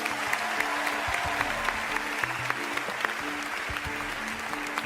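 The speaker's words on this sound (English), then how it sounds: "How about a big round of applause for both of them?" A studio audience breaks into applause, a steady wash of many hands clapping at close range for several seconds, with scattered sharper claps and a faint murmur underneath.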